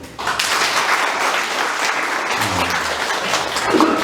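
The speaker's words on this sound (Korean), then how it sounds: "우리 다 같이 승리를 위해서 큰 박수 보내주시길 바랍니다." A gathering at a family clan's general meeting bursts into steady, full applause that fills about four seconds, with only brief voices beneath it.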